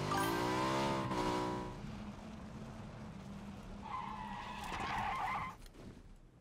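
A car in the battle-royale game PUBG drives with a loud engine drone and then skids, a long tire squeal rising near the end before cutting off.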